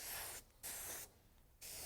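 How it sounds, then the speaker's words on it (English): Screen opener sprayed onto an ink-covered squeegee during screen printing cleanup, three quick close hissing bursts separated by short pauses. "You can also take screen opener and spray the ink off the squeegee."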